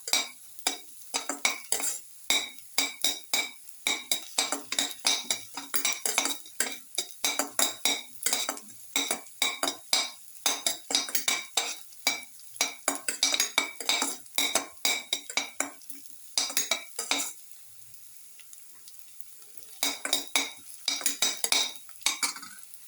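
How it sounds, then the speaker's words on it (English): Pepper lemon chicken stir fry being sautéed in a pan, with a utensil scraping and clinking against the metal in a quick, steady rhythm over a light sizzle, close and fairly loud, with brief pauses between bursts of stirring. "Keep on sauteing."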